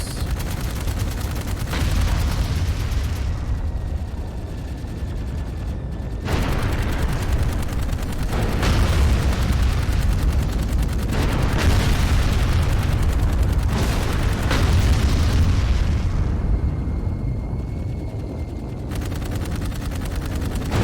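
In the video game Dark Void, a battleship's cannon fire and explosions form a dense, continuous roar of gunfire and booming blasts, loud and sustained, with brief lulls where the noise thins before surging again.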